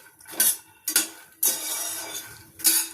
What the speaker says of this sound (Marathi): याच्यात तूप टाकून छान असं भाजून घ्यायचं आहे